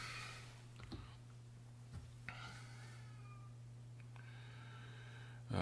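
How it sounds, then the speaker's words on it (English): A house cat meows repeatedly, crying for dinner, several drawn-out calls spaced a second or so apart, moderately loud against a steady low hum. "My cat is crying her fool head off."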